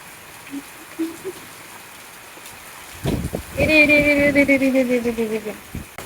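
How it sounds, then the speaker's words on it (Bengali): A heavy storm brings a steady downpour with wind, and the rain hisses loudly and continuously throughout. About halfway through, a falling, voice-like tone rises above the rain for a couple of seconds. "কি জোরে ঝড়ও হচ্ছে, আকাশও দেখছে, পানিও দিচ্ছে, হাওয়াই উঠছে।"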